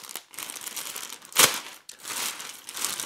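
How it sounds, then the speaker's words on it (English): A clear plastic bag sealing a Steiff teddy bear gift box is ripped open, giving close crinkling and crackling with one loud sharp tear in the middle, no talk. "let's first go ahead and open up the clear plastic bag"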